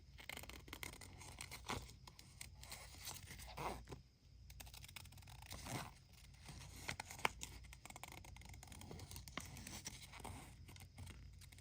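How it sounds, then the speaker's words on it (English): Scissors fussy-cut around a paper image, giving faint, close, irregular snips and paper rustles with quiet scratching and handling sounds throughout. "So I'm going to fussy cut around this, hopefully."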